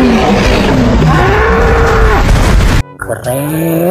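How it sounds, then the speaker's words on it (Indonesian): A Triceratops from Jurassic World Evolution 2 gives a loud, deep, drawn-out bellowing call, close and sustained for nearly three seconds, before it cuts off abruptly and a softer tonal game sound follows. "Wow, di sini ada Triceratops."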